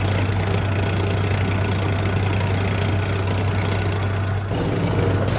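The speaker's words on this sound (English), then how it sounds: "you can always rotate the tank" MBT-90 tank engine running in a video game, a loud, steady low rumbling drone with a constant hum, idling continuously and alone throughout, with a brief dip near the end.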